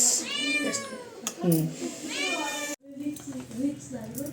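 A cat meows repeatedly in a home kitchen, several drawn-out rising and falling cries close by, with a brief pause before more meows.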